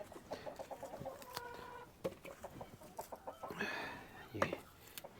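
Chickens cluck in a quick, rhythmic run of short calls close by, joined by a louder squawk partway through, with a person talking softly nearby.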